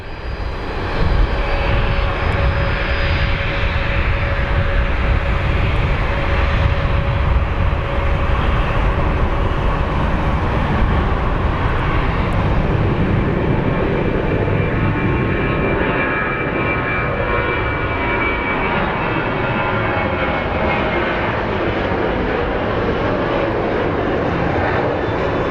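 A Southwest Airlines jet taxiing at Phoenix Sky Harbor airport gives a loud, steady engine roar with a sustained whine that holds throughout, close by and with no voices over it.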